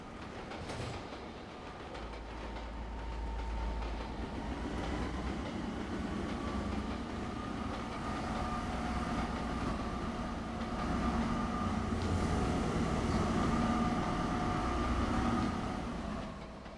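A train rolls along rails in the Train Simulator game on an Argentina route, a steady rumbling drone with faint rhythmic clicking of wheels, continuous and fairly quiet with no talk.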